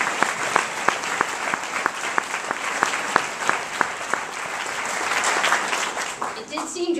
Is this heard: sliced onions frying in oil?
no